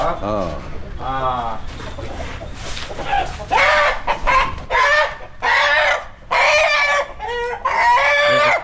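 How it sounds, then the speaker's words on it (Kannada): Chickens squabble at close range, with loud, repeated clucks, squawks and crow-like cries in uneven bursts that grow more frantic toward the end. "ಕೋಳಿ ಉಷ್ಣಗೆ ಬಂದಿರೋದು ಜಗಳ ಆಡೋದು"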